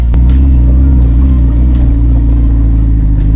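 A McLaren running on a newly installed eBay-bought engine rumbles loudly and steadily up close, a deep continuous drone with no voices.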